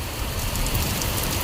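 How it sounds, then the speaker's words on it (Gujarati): Steady rain falls outdoors in a Gujarati village, a dense, even patter and hiss that holds at the same close level throughout, with no voices over it. "વરસાદ ચાલુ થઈ ગયો છે"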